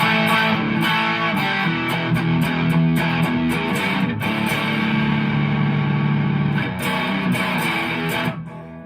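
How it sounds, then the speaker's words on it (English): Heavily distorted electric guitar through a Line 6 Catalyst 100 amp's Marvelous Engine, a darker, distortion-oriented setting, plays loud, sustained chords with a few sharp breaks, fading slightly at the end. "This is the Marvelous Engine, which is a darker sounding pedal, more distortion orientated."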